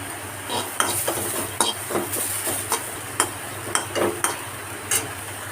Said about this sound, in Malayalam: ഈ ചെമ്മീൻ വറക്കുമ്പോൾ വെളിച്ചെണ്ണ ഒഴിച്ചു കൊടുക്കേണ്ട ആവശ്യമൊന്നുമില്ല കേട്ടോ ഈ ചട്ടിയിൽ വെറുതെ ഇങ്ങനെ വറുത്തെടുത്താൽ മതി